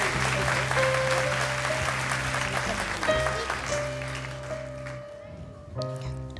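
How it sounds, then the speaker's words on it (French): A French TV studio audience applauds for Alexandre, a dense burst of clapping under sustained music tones that gradually thins and fades toward the end. "mesdames, messieurs, d'applaudir Alexandre."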